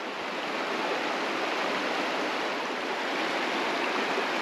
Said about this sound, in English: it looks like a little bit of a braid here, an irrigation ditch